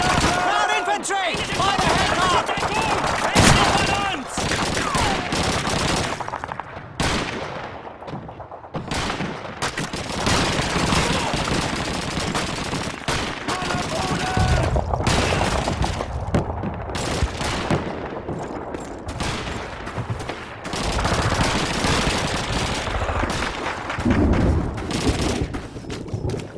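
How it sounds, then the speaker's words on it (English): Suppressing machine gun fire in Call of Duty 2 at The Crossroads: sustained bursts of automatic fire and scattered booms, loud and close, with shouted voices mixed into the battle. "Suppressing fire!"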